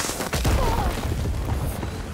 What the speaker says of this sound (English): It sure detonated on impact